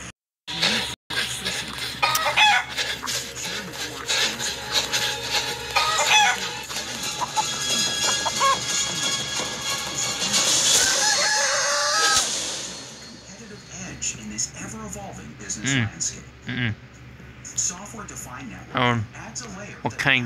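A chicken clucking and crowing in the Siren Head video game, the bird calls rising in short bursts while a person talks over much of the game audio.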